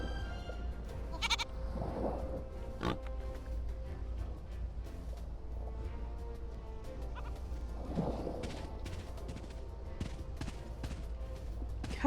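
In the video game Ylands, a goat gives faint bleats at intervals over a steady low background hum, with no talking.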